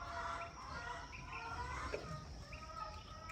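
Chickens and guinea fowl on a small mini farm in Ghana, a steady mix of clucks and squawking calls overlapping at moderate distance against outdoor background noise, with no talking.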